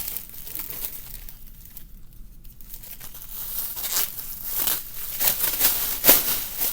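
A flat plastic sheet being unfurled crinkles and rustles close by, quiet at first and then growing into louder bursts of crackling toward the end, with no talking.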